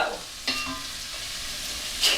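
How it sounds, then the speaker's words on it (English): A spoon stirs Moroccan red lentil soup cooking in a pot over medium heat, giving a few soft scraping strokes against a faint sizzle. "I'm gonna give this a stir"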